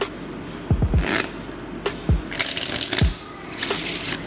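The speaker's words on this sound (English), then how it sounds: "So now I'm going to give the deck a shuffle." A deck of playing cards being shuffled, with quick riffling bursts and several sharp taps as the cards are squared on a surface, close and fairly crisp, with no talking.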